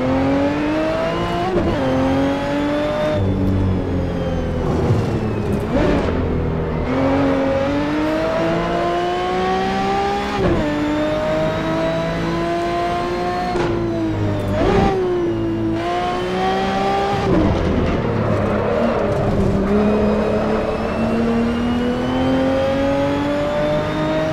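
A 1977 Broadspeed Jaguar XJ12C race car's 5.4-liter V12 in a racing video game screams and revs to 8,000 RPM repeatedly, pitch climbing through gears then dropping between shifts, loud and continuous.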